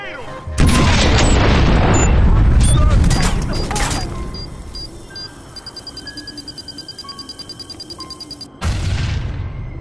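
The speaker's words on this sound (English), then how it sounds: "Get a grenade on!" A grenade explodes in the video game Watch Dogs with a loud, close boom that rolls and decays over several seconds. A fast, regular mechanical ticking follows, then a brief low rumble after a short break.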